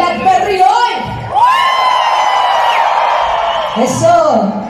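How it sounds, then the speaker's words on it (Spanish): At a concert in Mexico City, a crowd shouts, whoops and cheers in loud, sustained waves that swell and dip, with a few individual voices calling out above the roar. "A ver cómo grita el Blackberry hoy"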